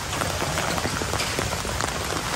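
Rain falls steadily on a surface during a rainy day, a dense, even patter of drops close by with no voices.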